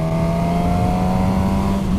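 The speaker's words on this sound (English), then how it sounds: "It's got that lovely sort of airbox roar that bike's also got as well." A Suzuki GSX-S motorcycle engine gives a loud, steady airbox roar with a sustained revving drone, close and alone, over about two seconds.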